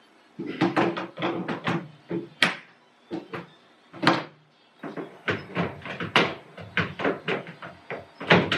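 Cupboard doors on a budget DIY bookcase and TV stand are opened and shut repeatedly, giving a quick series of wooden knocks, clicks and taps, close and fairly quiet, with brief pauses between bursts.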